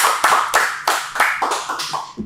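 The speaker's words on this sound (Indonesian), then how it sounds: "Tepuk tangan ya dulu." A small group clapping in a podcast studio, a brief burst of sharp, close hand claps in an uneven rhythm of roughly eight strokes over two seconds, with no talking.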